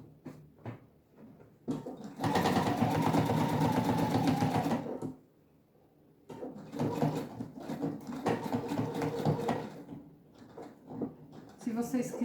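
A sewing machine stitches a reinforced seam on a handbag panel, backstitching back and forth in two long, loud whirring bursts separated by quiet pauses and a few short starts.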